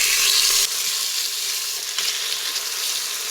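Chicken pieces fry in olive oil inside an Instant Pot, giving a steady bright sizzle with soft stirring, close and continuous with no talk.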